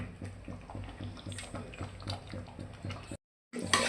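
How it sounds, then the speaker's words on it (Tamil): Curd is poured into a pot of spicy chicken biryani in a home kitchen, giving soft, quiet wet splashing with light rhythmic taps against the pot, then a brief cut to silence before the sound resumes. "தயிரை ஊற்றிக்கிங்க. அப்போ தான் நல்லா சாஃப்டாக இருக்கும்."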